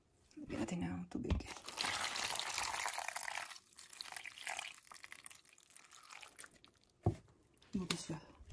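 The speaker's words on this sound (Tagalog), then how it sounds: "Lagyan natin ng tubig." Water pours into a pot for cassava suman, a close splashing gush for a few seconds, then quieter drips and crinkling handling noises, with voices faintly present.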